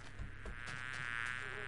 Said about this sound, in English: Oh god, the bees are angry.